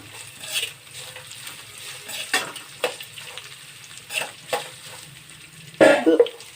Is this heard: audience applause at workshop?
no